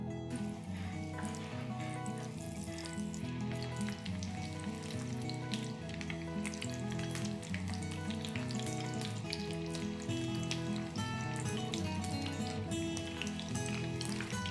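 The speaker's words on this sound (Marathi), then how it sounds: "याच प्रकारे आता बाकीचे लॉलीपॉपही तळून घेऊया।" Veg lollipops deep-fry in oil with a continuous soft bubbling sizzle across the whole stretch, while steady tonal background music plays beneath, with no speech.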